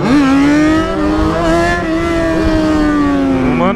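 An S1000 motorcycle engine revs hard at a traffic light and holds a high, strained whine, pitch rising slightly then sliding back, loud and close throughout.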